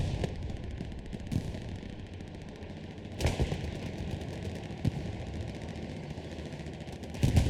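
Gunfire and artillery in the World War II video game Hell Let Loose during a large squad battle: a steady din of distant shooting with occasional sharper, louder cracks and blasts, no voices.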